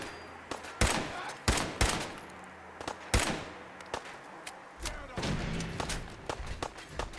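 Gunfire in Fallout 4 comes as several sharp, loud shots in irregular bursts, some rattling quickly and some spaced apart, with heavier thuds between them.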